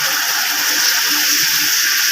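Chickpea masala frying in a pan with ginger-garlic paste as a little water is added, giving a steady, close hiss of steam and sizzle with no pauses.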